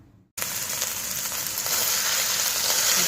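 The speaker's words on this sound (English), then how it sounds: "Beef is getting nice and brown" Ground beef seasoned with salt, pepper, cumin and chili powder browns in a hot pan for chili. A loud, bright sizzle starts abruptly after a brief quiet and holds steady and close, with no talk.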